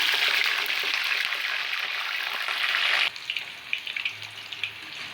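Potato French fries frying in hot oil, a loud, dense, even sizzle for about three seconds that then drops to a quieter crackle with scattered pops.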